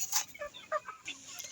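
Pet chickens cluck in short, nearby bursts, several brief irregular calls overlapping across a moment.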